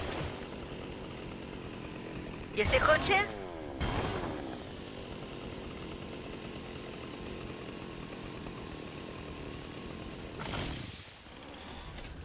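Fortnite chainsaw revving in short bursts during a match, one loud burst early on and another later, over steady game ambience with a few words of talk.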